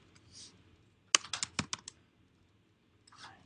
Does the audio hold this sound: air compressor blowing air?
no